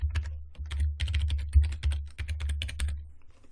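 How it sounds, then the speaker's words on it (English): Rapid keystrokes on a computer keyboard as a password is entered, a steady run of crisp, close clicks with brief pauses, alone with no voices. "I'm going to type that password in again."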